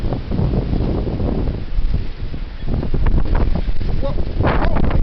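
Strong wind gusting and roaring across the microphone on a cold day with snow expected, loud and steady throughout with surging bursts and rumbling buffeting, and no talk over it.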